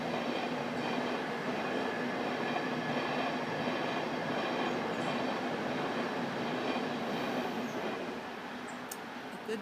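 A train rumbles past at a steady, moderate distance, a continuous rolling drone with faint metallic clatter that holds for about nine seconds before easing slightly at the end, with no voices.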